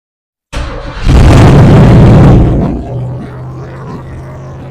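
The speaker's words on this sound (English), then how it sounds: "I'm going to try raising the idle screw and basically seeing if that makes any changes with how it wants to idle or not." A third-generation Camaro Z28 V8 fires up with a loud, close roar that booms briefly and then settles into a rough, steady idle after adjustment of the idle screw.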